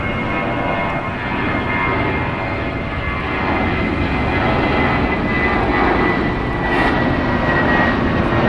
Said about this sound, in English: Arriving on the north side is Delta Airlines Flight 390 coming in from Detroit.